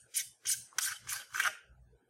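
The capped turrets on a Burris Eliminator III riflescope are turned by hand, producing five quick, close, rasping ratchet clicks in an even rhythm, alone in a quiet room.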